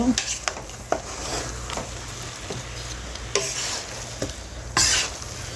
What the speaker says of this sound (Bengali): ডিমটা দিয়ে একটু নাড়াচাড়া দেব।